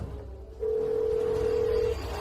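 A phone call to someone produces a single steady ringback tone lasting a little over a second, clear and moderately loud over faint room noise.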